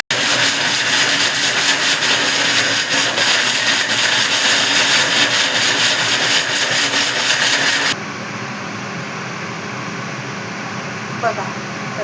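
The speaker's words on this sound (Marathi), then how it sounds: "आता याला वाटून घेऊया आपण मिक्सरला." Electric mixer grinder grinding flaxseed chutney with salt, whirring loudly and steadily for about eight seconds, then cutting off abruptly to a quieter background hum.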